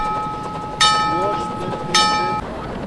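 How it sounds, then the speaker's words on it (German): A small park railway train pulls into a station, its horn sounding twice in two bright blasts over a steady rail rumble and clatter, with a voice audible in the background. "Hier fährt die Bahn in den Bahnhof."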